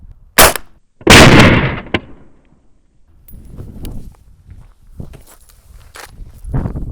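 A rifle fires a Black Hills 77 grain open tip match round: a sharp loud crack followed at once by a second booming report, then scattered softer thuds and handling noises.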